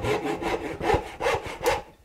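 A hand saw cuts dovetails in wood with a run of about six rhythmic push-and-pull rasping strokes, close and clear, each stroke a short scratchy burst, and no voices present.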